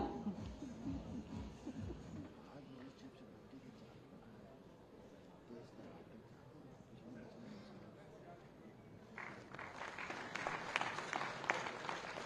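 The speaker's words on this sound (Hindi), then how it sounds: "उन लगातार तालियों के साथ" Someone speaks at a formal government ceremony on food processing and agricultural industry; near the end a crisp round of audience clapping breaks out and grows louder.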